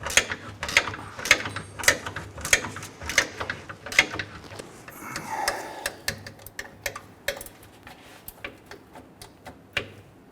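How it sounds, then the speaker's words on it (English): A spare tire hoist under a Nissan Frontier pickup is cranked by hand, giving a rapid series of sharp ratcheting clicks that run through the whole stretch with a short scraping pause in the middle. "Pretty much when we crank this up, it's going to go ahead and lift this tire up."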